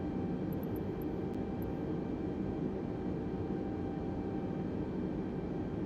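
An airliner's engines roar loud and steady through a takeoff at Dublin in Microsoft Flight Simulator 2020, with a few faint high beeps early on and no voices.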